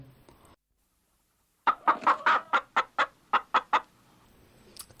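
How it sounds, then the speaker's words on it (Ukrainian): A hen clucks in a quick series of about ten short, evenly spaced clucks, close and clear after a brief silence. "А це мама курочка, яка співає."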